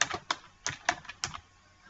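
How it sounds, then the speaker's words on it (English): Typing on a computer keyboard: about half a dozen crisp, close key clicks in an uneven rhythm, with short pauses between them and nothing else heard. "Type the words Works Cited."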